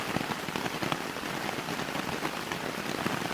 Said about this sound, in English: I am feeling just occasionally a little bit of rain kind of coming through the thing